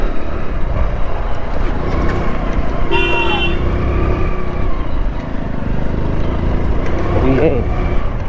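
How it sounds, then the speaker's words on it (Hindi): Heavy road traffic rumbles around a scooter rider, with a loud, continuous engine and road roar close by. Short horn toots cut through twice, and a voice can be heard over the din. "इतना ट्रैफिक है यार"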